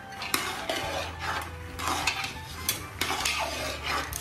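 Peanuts frying in oil in a pan are stirred continuously with a utensil, giving rhythmic metallic scrapes and clinks over a soft sizzle, close and moderately loud.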